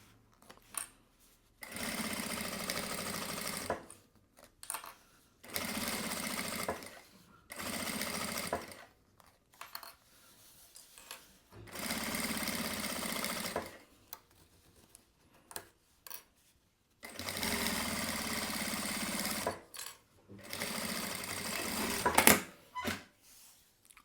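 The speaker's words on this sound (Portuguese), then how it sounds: "Vou vir costurando agora o outro lado" A sewing machine runs in repeated bursts of a few seconds each, separated by short pauses, while stitching the other side of a fabric panel; close and moderately loud, with faint handling sounds between runs.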